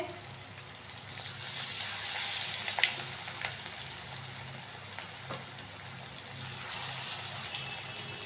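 Chilli chicken pieces frying in plenty of hot oil in a kadai give a soft, steady sizzle and crackle, with a few small pops and splutters scattered through, fairly quiet and close.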